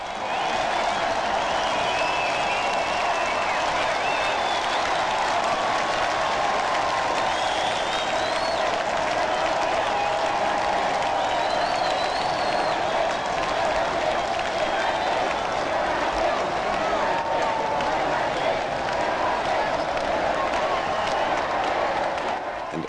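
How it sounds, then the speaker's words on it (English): A huge crowd of about half a million people outside a balcony sends up a sustained roar of cheering and applause. It is loud and constant throughout, with shouts and clapping blending into one wash of sound. "A kiss, which receives a roar of approval from the crowd"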